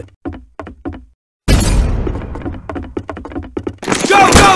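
A grenade explosion effect in a stop-motion army men film: a burst of loud crashing blast noise that follows short knocking hits, then gives way to clattering debris, with voices shouting around it.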